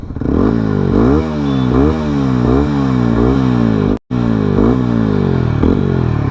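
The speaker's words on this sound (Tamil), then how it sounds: "அதே மாதிரி இன்னொரு வாட்டி எக்ஸாஸ்ட் நோட் வந்து கேட்டு பாருங்கள்" A TVS Apache RTR 160 4V motorcycle exhaust revving repeatedly, loud and close, its pitch climbing and falling in a steady rhythm with a brief cut near the end.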